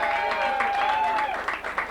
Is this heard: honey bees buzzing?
no